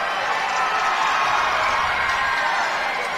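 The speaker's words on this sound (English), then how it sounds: "If you're wondering why you're hearing cheers from the crowd, the Panguitch parents and students are clapping about the 6-point lead" Parents and students of a Panguitch high school basketball crowd cheer and clap at a boys' quarterfinal game, a steady, loud wash of crowd noise with no distinct breaks.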